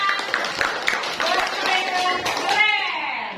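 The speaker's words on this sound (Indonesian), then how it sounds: "beri tepuk tangan untuk kelompok beriman" Students in a classroom clap for a discussion group, a burst of uneven hand claps that builds into brief applause, mixed with chatter and a voice speaking.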